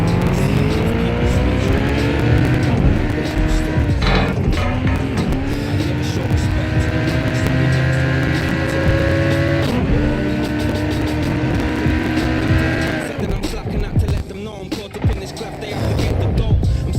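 A car drives in Watch Dogs: Legion, its engine note rising and falling through gear shifts with rolling tire noise, loud and close, ending in rougher scuffing sounds.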